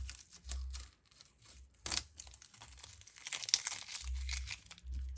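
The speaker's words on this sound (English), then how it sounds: "And I'm going to have to erase my pencil marks." An eraser rubs pencil marks off paper in irregular scratchy strokes, crinkling the sheet with occasional thumps and rustles, close and fairly quiet.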